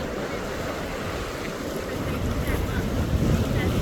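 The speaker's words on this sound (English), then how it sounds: "Not many fish biting, but the waves are cool." Ocean waves crash over a jetty during saltwater fishing, a steady roaring wash of surf with heavy wind buffeting the microphone.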